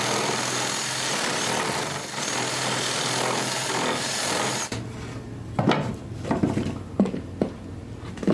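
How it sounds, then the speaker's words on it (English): A 1-inch spade bit on a drill enlarging a hole in wood for a carpenter bee trap, a continuous close grinding drone that stops abruptly, followed by several scattered knocks and scrapes. "take this 1-inch spade bit and wallow it out a little bit"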